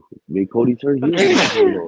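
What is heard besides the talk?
sneeze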